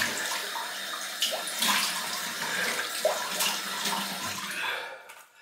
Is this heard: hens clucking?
no